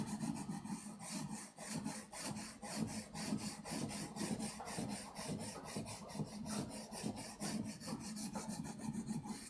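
A steel blade is stroked back and forth across a sharpening stone, shifting over different areas of the stone in a steady, close, repetitive scraping rhythm with no talking.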